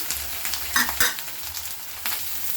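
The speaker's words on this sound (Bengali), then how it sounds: "আমি এটা আবার নাড়িয়ে দিচ্ছি এটা নাড়াতে হবে যাতে পুড়ে না যায়" Vegetables for begun vapa, a vegetarian eggplant dish, frying in a pan over a high gas flame, steady sizzle broken by a few scraping stirs of a spoon, close and without talk.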